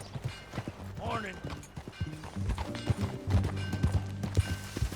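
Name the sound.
horse hooves clip-clop while riding, Red Dead Redemption 2 video game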